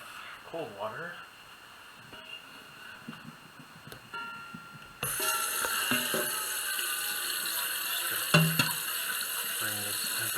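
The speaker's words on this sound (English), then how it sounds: "we're gonna refill this with cold water" Cold tap water runs into a pot in a kitchen sink while macaroni is prepared, a steady rushing flow starting midway and continuing to the end, with light clinks and quiet handling sounds before it.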